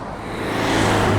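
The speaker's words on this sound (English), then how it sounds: "Cars here have been flying through." A car speeding along a street in Larnaca, Cyprus, its engine hum building steadily louder as it approaches over about a second.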